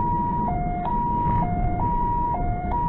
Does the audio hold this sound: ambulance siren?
yes